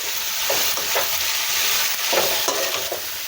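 Grated coconut is stirred into chicken bassaaru curry frying in a pan, with a steady sizzle broken by repeated scraping strokes of a spoon at a slow, regular pace, close and alone.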